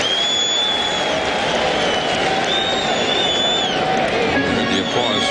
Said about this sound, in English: And the applause for Jim Edmonds